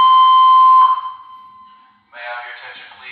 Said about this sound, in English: So we just had a fire alarm here